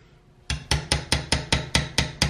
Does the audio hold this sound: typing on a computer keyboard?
no